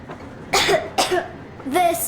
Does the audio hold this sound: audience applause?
no